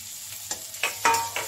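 Chopped onion and grated ginger fry together in a pan for an omelette filling: a quiet sizzle broken by a few sharp spatula scrapes and stirs in quick succession.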